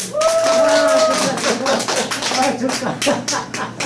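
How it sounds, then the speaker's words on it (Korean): An audience at a Korean lecture on golf-related business claps, a moderately loud patter of hands running beneath someone talking throughout. "박수 한번 쳐주세요"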